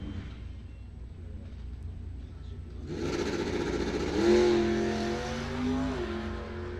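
A drag racing car launches off the line at a bracket and index race, its engine rising from a muffled idle to a loud, high revving roar that climbs through the gears and stays strong, with distant announcer talk under it.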